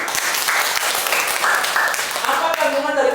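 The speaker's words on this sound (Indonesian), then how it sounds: "tepuk tangan dong" Applause from an audience at an Indonesian product presentation for an anti-aging mask, a dense steady clatter of clapping that holds for a few seconds, with a voice speaking over it.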